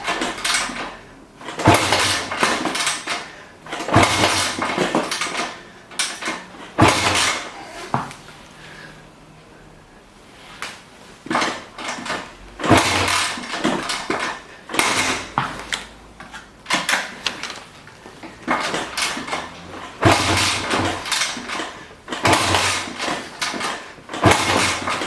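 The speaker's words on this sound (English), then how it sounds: "you basically just kick the engine over until the compression tester needle stops going up" Two-stroke dirt bike engine kicked over repeatedly by hand for a compression test, a series of loud mechanical clanks and thuds repeating in bursts with short pauses, no ignition, close up.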